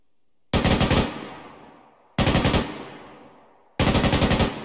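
A crew-served machine gun fires three loud close bursts, each a rapid string of shots with a decaying echo tail, spaced about a second and a half apart with silence between.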